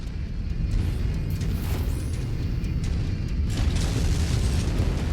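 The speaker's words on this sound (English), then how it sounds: "Is that artillery back there?" Artillery explosions in the MechWarrior 5 video game, a continuous heavy rumble of booms with deep low-end weight and scattered bursts, loud and close, no voices over it.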